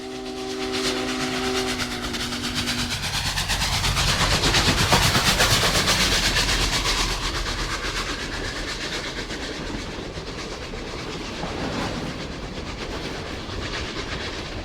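Union Pacific 844 steam locomotive running during the 1989 Railroad Day celebration in Topeka, Kansas, with a whistle blast at the start, then loud steady chuffing and rolling wheel clatter that swells and eases as it passes.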